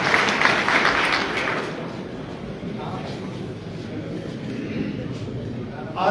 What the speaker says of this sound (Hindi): जोरदार ताली से एक बार फिर